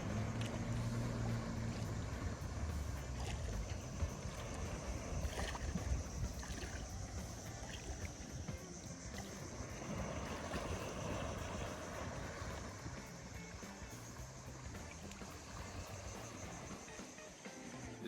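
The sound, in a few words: sea and nature sounds at sunset, El Nido, Philippines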